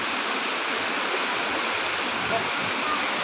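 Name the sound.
flowing water from a spring water source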